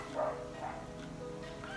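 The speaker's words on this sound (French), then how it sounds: "Il y a des chiens qui se battent." Dogs fighting and barking somewhere off to the side, heard as a few yips and woofs fairly faint in the background over a low room hum, without speech.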